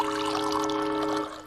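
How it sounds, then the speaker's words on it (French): Water running from a tap in a cartoon, a steady pouring rush with a faint tonal hum beneath, loud and alone before tapering off near the end. "déjà le robinet fonctionne"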